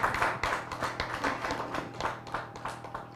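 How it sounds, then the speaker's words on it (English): An audience claps at a regional library read-a-thon launch, with uneven, moderately faint hand claps and a low hum underneath. "Let's clap for her."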